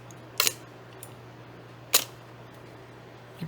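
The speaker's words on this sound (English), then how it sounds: "You probably noticed the difference in shutter speed there." Pentax P3N film camera shutter firing with the lens stopped down to f22 at a slow speed: a sharp open click, a pause of about a second and a half, then the closing click, alone against a faint steady hum.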